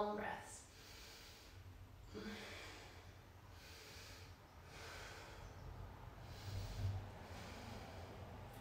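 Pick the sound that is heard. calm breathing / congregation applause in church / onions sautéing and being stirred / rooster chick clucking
calm breathing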